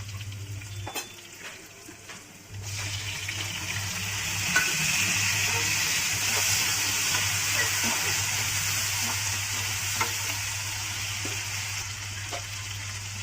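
Tomatoes fry with sautéed onions in a pan for bitter gourd kulambu, a steady close sizzle with occasional scraping stirs and clicks, under a low constant hum; the sizzle swells after the first few seconds and holds.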